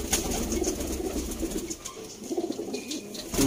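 Sialkoti high flyer pigeons cooing softly at close range, low murmuring coos repeated over a faint background hum, with no talking.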